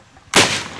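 One sharp, loud bang of a spirit-fuel firecracker, a homemade type filled with ten sprays of fuel, bursts suddenly and trails off in a short, rough decay.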